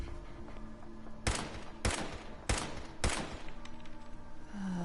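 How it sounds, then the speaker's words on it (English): Gunfire in Fallout 4, four sharp bursts spaced about half a second apart over a low ambient game background, fairly loud against the quiet bed rather than heavily muffled. "You can kind of hear some gunfire going off in the distance."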